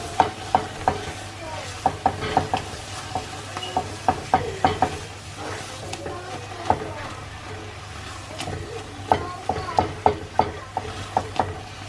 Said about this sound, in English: and I will re-stir it again.